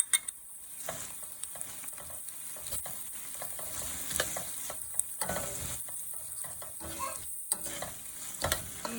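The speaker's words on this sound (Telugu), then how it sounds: "ఈ స్పైసెస్ అన్నీ కొంచెం ఆయిల్లో బాగా ఫ్రై చేసుకోవాలి." Spices such as cumin powder, chili powder and gram flour sizzle steadily in hot oil as a spoon scrapes and stirs them in the pan, a continuous close frying hiss with scattered clinks.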